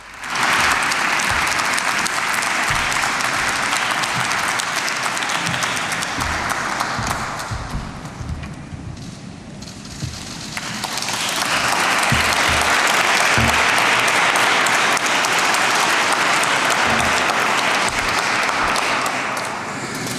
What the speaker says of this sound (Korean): 문재인 대통령님을 박수로 맞아주시기 바랍니다